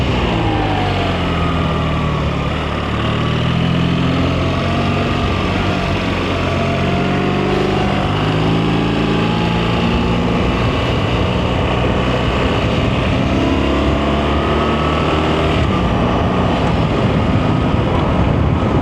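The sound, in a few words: BMW R1300RT motorcycle engine while riding through a roundabout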